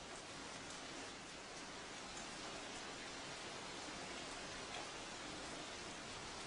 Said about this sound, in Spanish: De repente, empieza a llover.